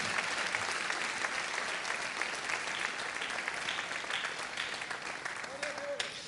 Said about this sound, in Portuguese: So let's give the Lord a hand.